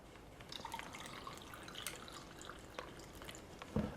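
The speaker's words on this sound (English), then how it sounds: "But let me pour this over my glass." Southern-style sweet tea poured over a glass, a soft, steady trickle with faint dripping splashes throughout, quiet and close with no voices.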